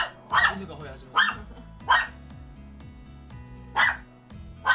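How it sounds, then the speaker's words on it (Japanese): A dog barks in short sharp bursts, about five yaps spaced roughly a second apart, fairly close, over a steady low musical background hum. "犬がなんかワンワンしてるんですけど"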